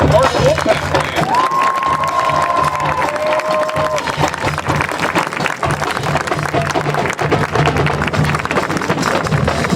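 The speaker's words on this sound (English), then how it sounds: "How about one more huge round of applause for the Park Wolfpack Band?" A crowd in a stadium at a district marching band showcase gives sustained applause and cheering for a high school marching band, with steady clapping and shouts and a few whistles cutting through the wash of noise.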